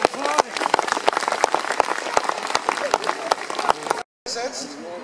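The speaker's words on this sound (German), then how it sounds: "Das ist auch einen Applaus wert." An outdoor audience claps steadily and loudly after a black powder gun demonstration, the dense applause cut off briefly near the end before voices resume.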